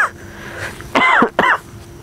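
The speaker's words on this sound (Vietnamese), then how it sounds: "Mình cứ bị ho như vậy riết luôn á các bạn" A person coughs twice, harsh and close, in a bamboo thicket at night, with short rasping bursts separated by a brief pause against faint background hiss.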